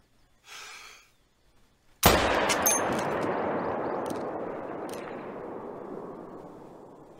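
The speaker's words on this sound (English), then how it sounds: "Shooting them with the rifles is so damn funny." Single loud rifle shot from a pheasant hunt in the video game theHunter, a sharp crack followed by a long fading echo rolling over several seconds, preceded by a brief soft rustle.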